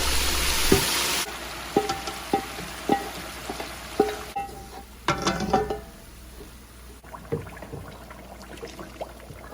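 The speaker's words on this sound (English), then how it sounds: "once it caramelizes, I'll add the pepper mix and stir it in very well" Pepper mix is stirred into a tomato stew base frying in a pot, with a sizzling hiss under a series of sharp spoon scrapes and knocks against the pan, close and alone.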